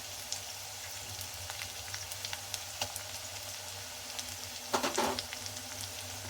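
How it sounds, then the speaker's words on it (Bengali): Ginger garlic paste fries lightly in a pan for koi fish bhuna, giving a steady close sizzle scattered with small pops and crackles, then a brief louder burst of spattering and stirring near the end. "আদা রসুন বাটা দিয়ে হালকা ভেজে নেব"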